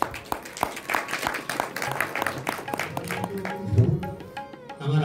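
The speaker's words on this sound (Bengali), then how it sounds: "সেই জন্য আমি সুভাষিসের জন্য আপনাদের কাছে চিত্তপটের হয়ে একটু জোরে একটা হাততালি চাইছি।" Audience applause at a Khantura Chittopot theatre festival, a burst of scattered clapping that fades, with a few voices speaking under it near the end.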